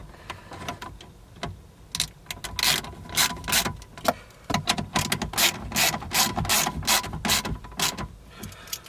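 Ratchet wrench clicking in quick irregular bursts while tightening a 7mm bolt on a dashboard bracket of a 2011-2018 Jeep Wrangler, close and crisp with short pauses between strokes.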